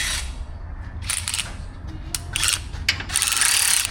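A ratchet socket wrench turns subframe bolts on a Jeep Compass during collision repair, with repeated bursts of rapid clicking at a close, moderate level over low background noise.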